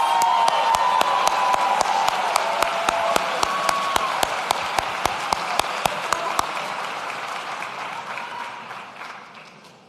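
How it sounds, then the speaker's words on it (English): A graduation ceremony crowd at Brooks School applauds steadily for Healthcare Policy graduates, dense clapping holding strong before gradually thinning and fading toward the end. "Please join me in a round of applause for our Bachelor of Science in Healthcare Policy graduates."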